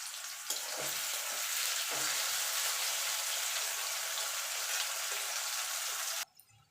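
Potato pieces frying in hot oil with a little salt and turmeric in a home kitchen: a loud, steady hiss of sizzling with occasional stirring knocks underneath, cutting off abruptly near the end.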